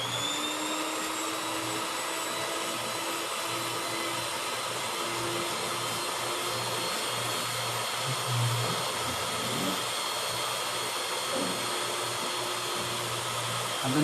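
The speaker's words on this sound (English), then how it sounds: "So I'll take my whisk and just beat it lightly." An electric whisk runs steadily on 35% cream, a constant motorised whir with a faint high whine that holds even and unbroken at close range, with no voices over it.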